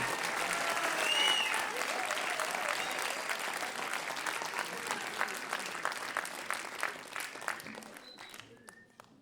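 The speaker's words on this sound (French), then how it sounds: "On peut les applaudir tous bien fort" A large concert audience claps steadily for several seconds, dense at first, then thinning into scattered claps as it fades out.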